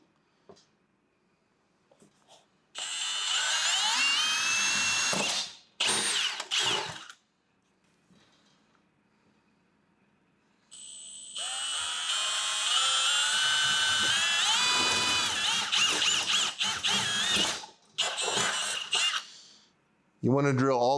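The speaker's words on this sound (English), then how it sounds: "We'll use a 6-inch drill bit to drill through from the outside." A 6-inch drill bit bores through the outside of a Kohler generator enclosure and its foam lining in two long, whining bursts, each with short pauses and trailing buzzes, over a quiet background.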